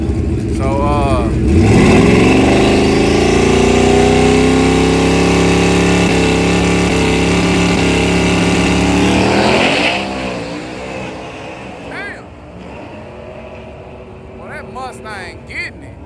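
A Mustang race car accelerates hard down a drag strip, its engine note climbing loud and close for several seconds before fading away, with an announcer talking over it.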